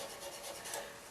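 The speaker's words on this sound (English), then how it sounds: "sanding all these grooves" Sandpaper rubs against spiral grooves cut into a pen blank turning on a lathe, producing a soft, steady, faint scratchy hiss with slight rhythmic pulsing.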